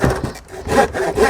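Fine-tooth hand saw cutting through wood, three close, loud rasping strokes in a steady back-and-forth rhythm with a brief dip between strokes.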